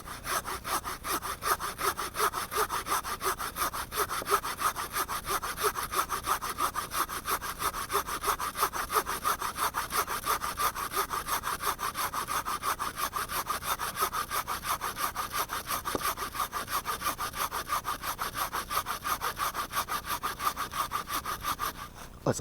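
Fiskars hand saw (SW73/SW75 models) cutting through wood in quick, even back-and-forth strokes, a continuous rasping rhythm close up for over twenty seconds with no talking.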